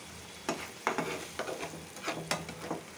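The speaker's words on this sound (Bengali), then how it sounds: "কই মাছগুলি ভুনা করে নিলাম" Koi fish sizzling and frying in a pan as they are stirred, with several scraping strokes over a steady quiet sizzle and no talking.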